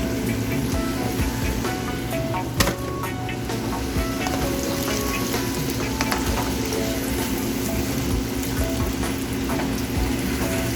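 Food frying in a kitchen pan until golden and crisp, with a steady, dense crackling sizzle throughout and one brief louder clatter near the start, loud and close with no talk.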